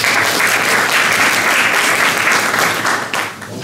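Students in a university thermodynamics class applauding a classmate, dense close clapping throughout that tapers off slightly in the final moments.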